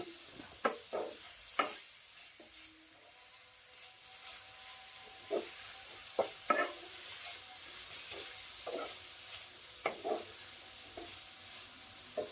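Grated coconut and jaggery filling is stirred in a pan, with soft sizzling under intermittent spatula scrapes and taps spread across the stretch, fairly quiet and with no voices.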